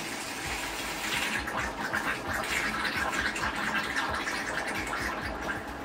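Flushing liquid rushes and gurgles steadily through automotive A/C lines, evaporator and expansion valve, a close, continuous watery hiss with no talking.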